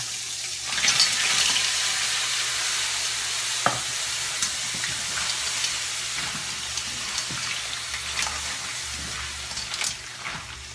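Food stir-fried in a hot pan on a new stove, with a steady bright sizzle throughout and intermittent scraping clicks of a utensil stirring, close and fairly loud, no talking.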